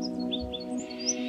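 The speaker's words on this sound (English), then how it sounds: "The Scarlet Robin is a small woodland bird of very distinct colour" A Scarlet Robin calls in New South Wales woodland, a short series of high, thin chirps close by and clear, with no talking.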